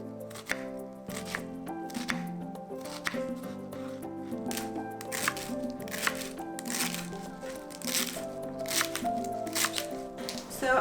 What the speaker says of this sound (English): I also have several stalks of celery here, which I am going to finely chop along with leaves